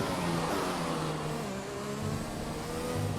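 A racing car's engine drones steadily at Singapore Grand Prix in a video game, a continuous mid-pitched whine with shifting tonal bands as revs change, loud and up close.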